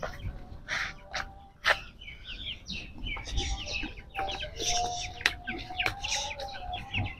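Chickens and chicks at a rural haveli cluck and chirp in short scattered bursts at moderate distance, with occasional louder calls and background activity.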